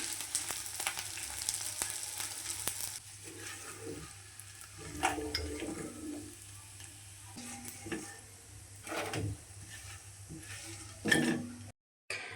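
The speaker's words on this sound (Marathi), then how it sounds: "आता मी डिंक फ्राय करून घेते आधी." Edible gum fries in four spoons of ghee with a soft, steady sizzle, while occasional stirring scrapes and light clinks against the pan sound close by.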